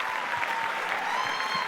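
Audience applause at a 2019 charity gala for cancer cures, a steady wash of many hands clapping throughout, fairly loud and continuous with no voices over it.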